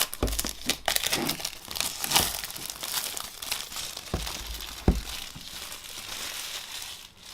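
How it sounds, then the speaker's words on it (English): Plastic wrap is peeled and torn off an Apple Watch Series 4 box, producing close, crisp crinkling and crackling with a few sharper snaps, continuous throughout. "the first thing here is to take off this really satisfying plastic"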